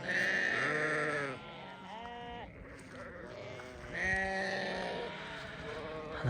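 Hisor sheep in a spring flock bleating, several long wavering calls in clear succession, fairly close but moderate in level, with no speech over them.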